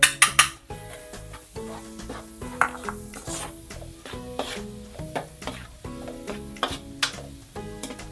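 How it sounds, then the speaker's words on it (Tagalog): A large onion goes into a pan with toasted garlic, giving a quiet sizzle under repeated clinks and scrapes of a utensil against the pan at an irregular rhythm. "ilagay na natin itong isang malaking sibuyas"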